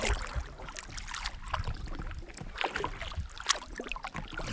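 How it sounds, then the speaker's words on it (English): Boat on the Osage River heard from the riverbank, a loose irregular rumble and splashing with wind gusting across the microphone, moderately loud and without talk. "And there's that boat I was hearing."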